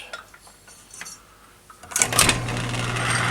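A carbide boring bar cuts inside a bore on a metal lathe spinning at higher RPM: a few faint metallic taps and ticks, then a sudden steady ringing, scraping cut that holds loud and continuous to the end.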